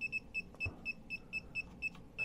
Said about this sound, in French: il fait toujours le même bip